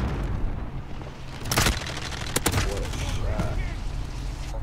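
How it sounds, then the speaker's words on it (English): A bomb detonates during a Modern Warfare team deathmatch, a sharp burst with a second blast close behind it, set against a steady bed of game noise and distant gunfire. "That fucking bomb"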